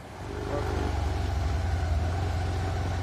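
A car engine runs close by while the car is being parked on a rainy village road, a steady low rumble with slight throbbing that builds in the first half-second and then holds level. No speech.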